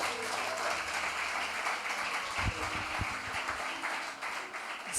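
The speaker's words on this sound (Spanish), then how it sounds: "Un aplauso al Señor." A church congregation applauds, a dense, steady wash of clapping filling the room for several seconds, with a few low thumps near the middle.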